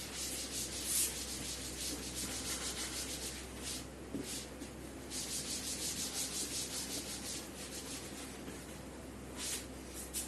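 Rubbing out writing on a classroom board during a physics lesson, a steady close scraping and rubbing in repeated strokes that runs throughout without pause, with no talking.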